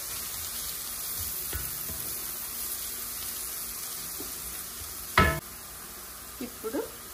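Amaranth leaves sizzle and fry in a pan as a steady hiss, stirred now and then, with a sharp clatter partway through and a few small knocks near the end.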